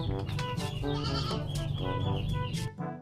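Goats being kept and dewormed on a farm bleat repeatedly and loudly, several overlapping calls in a dense, continuous chorus close by, with no talk.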